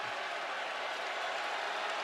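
Basketball arena crowd reacts to a missed free throw with a continuous, fairly faint roar of mixed voices and noise, steady and distant throughout.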